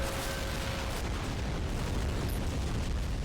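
Grenade explosions in the war video game Army Men of War, a dense continuous rumble of blasts and bursts filling the scene with low booming noise and no talk.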